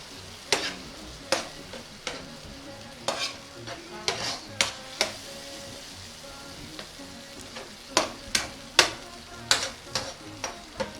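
Assorted meat frying and browning in a pot for meat pie, a steady sizzle punctuated by repeated sharp scrapes and knocks of a spoon against the pot at an irregular pace, close by and without talk.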